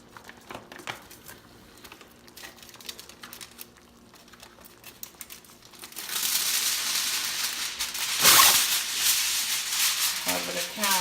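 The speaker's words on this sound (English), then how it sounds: "The first thing that you do is take foil. And you want a decent amount." Aluminium foil is torn off a roll and spread over a kitchen counter, beginning with faint clicks and rustles and then turning to a loud sustained crinkling with a sharp tearing rip near the end, close to the microphone.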